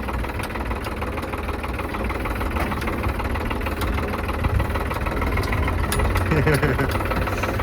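A tractor engine runs on a dangerous mountain road near Chandratal in India, knocking and chugging steadily at close range while voices talk over it.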